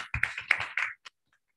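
Audience at a leadership guest lecture giving a short burst of scattered hand claps, a handful of sharp, close slaps that quickly die away into silence.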